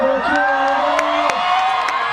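Crowd cheering and whooping on a TV show, loud and close, with sharp shouts and claps over a sustained roar.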